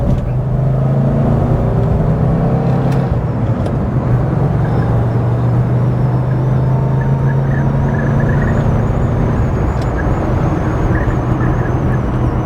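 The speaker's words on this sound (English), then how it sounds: "Pause for a bit of V8." A Rover 3500S P6 with its V8 engine running gives a loud, steady, rumbling drone from inside the car, a continuous low throb with road noise and no speech.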